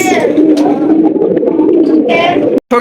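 A black Barhoma pigeon of large size coos steadily in a loft, the low rolling calls running close and continuous before a brief cutoff near the end.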